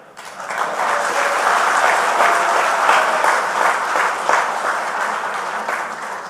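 A crowd at a political talk breaks into loud, sustained applause, a dense wash of clapping rising quickly and holding steady for several seconds.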